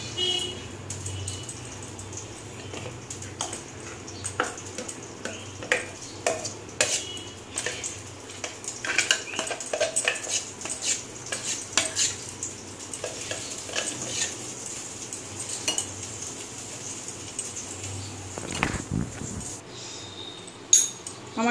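Ground lentil and rice batter with fenugreek for crispy dosa being poured into a large bowl and mixed, with continuous wet slapping, scraping and clinking of utensil against bowl, close and busy, a sharper clatter near the end.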